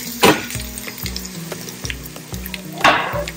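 Chicken fries in hot oil in a pan with a continuous close crackling sizzle, punctuated by two louder splattering bursts and a regular stirring rhythm, with no voices.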